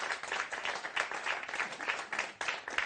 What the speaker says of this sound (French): On peut encore l'applaudir vraiment